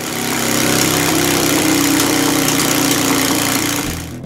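Motorcycle fitted with baffled S&S drag pipes runs on a Dynojet dyno, a loud, steady, rough engine drone held for about four seconds before cutting off sharply.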